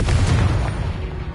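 A fiery Confringo blasting spell explodes in Hogwarts Legacy as a loud, close, rumbling boom that fills the moment and slowly fades.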